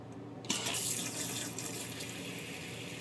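After a short quiet moment, rinse water from a flask pours down a laboratory sink drain with a sudden splash, then settles into a steady close rushing flow for a few seconds, no voices.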